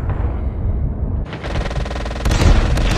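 A grenade blast in Call of Duty Mobile battle royale lands as a loud burst near the end, following close gunfire and rumbling booms.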